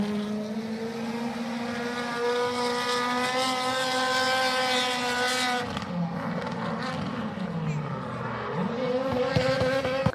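A loud Brataroo 9500 race car engine running at high revs with a strong whining tone, holding steady, then dropping and climbing again as the car moves off.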